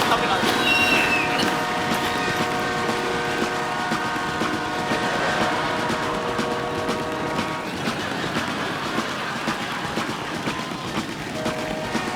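A train sound recreated on stage during a TV comedy show, heard as a steady rumbling, rattling drone with sustained horn-like tones that fade toward the end.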